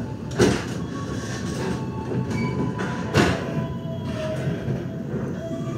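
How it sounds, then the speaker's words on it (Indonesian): The Tegal Bahari train pulls out of Cirebon Perujakan station with a continuous rolling rumble of railcars, with a few louder clanks and knocks from the wheels. "Pukul 17:20 kereta api Tegal Bahari berangkat dari stasiun Cirebon Perujakan."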